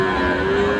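A cow moos at a rural cattle market in Dinajpur, one sustained, steady low call filling the whole short moment at close range.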